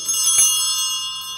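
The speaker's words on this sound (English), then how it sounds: "you will hear the bells ring" Small altar bells jingle during Mass, a single bright shimmering ring that swells briefly and then fades away, clear and fairly loud.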